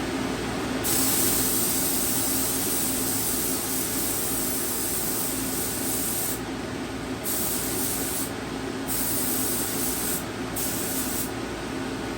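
Steady, close hiss of an aerosol spray can as metal flake paint goes onto a bicycle frame in short concentrated passes, the spray running almost continuously with a few brief pauses.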